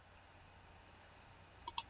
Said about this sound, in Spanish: Doy doble clic.